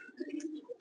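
A pigeon chick, offspring of a named breeder's pigeon, gives soft low cooing that rises and falls in a short continuous murmur, close and fairly faint, with a few thin chirpy notes above.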